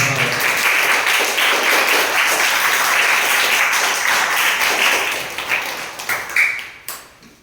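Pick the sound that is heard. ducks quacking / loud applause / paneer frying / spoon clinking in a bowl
loud applause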